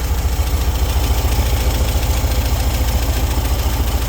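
An air-cooled VW 1600 cc horizontally opposed engine idles after a cold start following six months of sitting, a loud close steady pulsing rumble with an even rhythmic throb and no talk over it.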